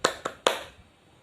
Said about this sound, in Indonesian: kita melakukan tepuk semangat